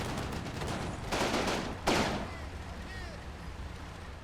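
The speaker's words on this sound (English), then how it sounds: "they're all actually shooting at my half-track" Gunfire in the WWII tactics game Combat Mission: Battle for Normandy, small arms shooting at a half-track in a village skirmish, a dense crackling fusillade with a louder burst midway, fading into softer distant rattles.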